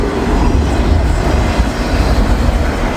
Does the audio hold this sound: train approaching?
yes